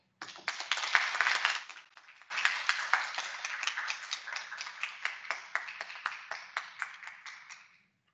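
An audience claps for a guest at a National Criminal Justice Month keynote event. A burst of applause briefly dips, swells again, then thins into scattered claps before fading out.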